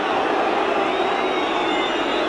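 Football crowd at a 1977-78 Spurs versus Brighton match, booing a substitution in a steady, dense roar of massed voices filling the stadium without a break.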